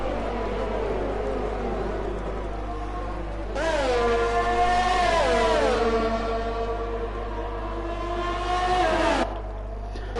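Race car engines in a sim racing game at Bahrain, one car spinning out after contact on its rear tire: a high, whining engine note that sweeps up and down in pitch, swelling louder in the middle and again near the end.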